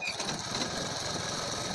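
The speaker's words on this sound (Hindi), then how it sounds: "इस तरह से हमें अपने कपड़े को संवारते हुए पूरी सिलाई लगा देनी है।" A sewing machine stitching a plain crush-fabric blouse runs in a steady, continuous close whir without pause, with no talking.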